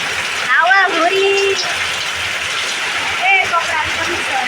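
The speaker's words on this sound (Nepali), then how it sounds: "यो वर्षको लास्ट दिनमा यस्तो जोडले पानी परिरहेको छ।" Heavy rain driven by strong wind makes a dense, loud, steady hiss and roar that fills the whole stretch, with a voice briefly heard through it.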